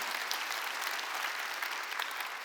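Congregation at a Sunday church service claps steadily and evenly in unison, a dense continuous applause throughout.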